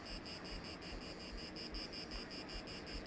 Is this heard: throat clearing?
no